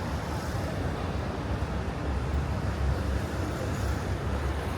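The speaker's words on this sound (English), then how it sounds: "It's a little windy, but it's fine." Loud, continuous wind buffeting the microphone on a beach in Rio de Janeiro, a broad roaring rush that could mix with distant surf, steady throughout with no voices.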